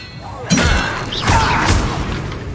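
A spell cast in Hogwarts Legacy, Expelliarmus, bursts out as a sharp magical blast followed by a crackling whoosh and a second impact, loud and close, with a voice calling the spell over it.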